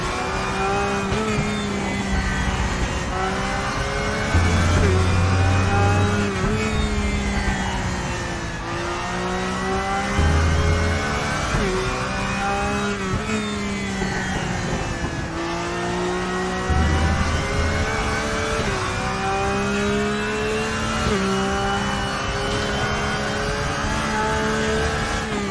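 A race car in RaceRoom laps the Nurburgring in an endurance race, its engine droning loudly and steadily, with repeated rises and falls in pitch as it shifts gears and revs, heard alone without talk.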